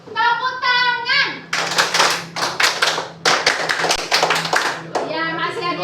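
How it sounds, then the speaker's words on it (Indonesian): Children in a classroom clap their hands in a group, quick loud bursts of rhythmic clapping in a patterned sequence, with a teacher's voice speaking before and after. "Tepuk tangan."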